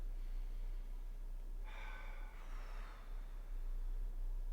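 A slow, deep breath in and out, with one soft airy exhale heard alone and close over quiet background hum.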